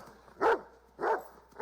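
A dog barks three times in spaced, even bursts, a moderately loud bark roughly every half second to second with quiet gaps between.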